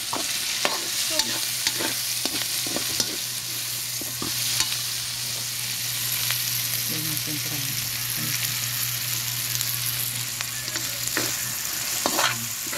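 Garlic, onion and chili sautéing in a pan for ginisang sayote, a constant hiss of frying with frequent quick clicks and scrapes of a spatula, close by, with a low steady hum in the background.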